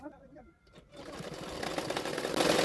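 A sewing machine stitches a double katori blouse. It starts after a quiet, faint opening, then runs as a steady mechanical whir that grows louder toward the end, close by.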